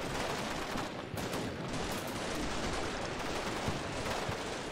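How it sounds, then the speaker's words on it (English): Gunfire poured into a building in the Combat Mission Shock Force 2 video game, a dense, steady wash of distant shooting and battle noise with no clear pauses. "that's Felix just putting a little bit of fire into this building."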